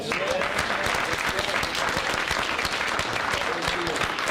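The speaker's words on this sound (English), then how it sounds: "Can we give them a round of applause?" An audience applauds a school football team at a meeting, a dense, steady round of clapping from many hands held at a constant level for the whole stretch with no break, with a voice faintly under it.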